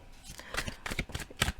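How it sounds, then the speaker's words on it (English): A deck of cards is shuffled up close in a brief run of quick riffling flutters and soft slaps. "We're going to throw these back in the deck, and we're going to shuffle"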